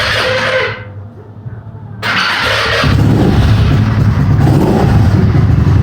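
Modified Mondial scooter with a 150cc GY6 swap being started: a loud close engine burst, a brief near-silent gap, then the engine catches and runs steadily with a rough rumble.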